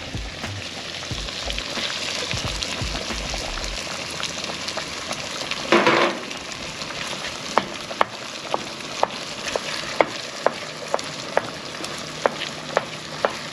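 Smoky chorizo sauce sizzles steadily in a pan outdoors, with a loud splashing hiss as tomatoes go in, then the frying continues with repeated scraping clicks of a utensil against the pan.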